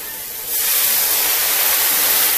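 A hot goulash pan is deglazed, erupting after a brief pause into loud, steady hissing sizzle and steam that holds evenly to the end.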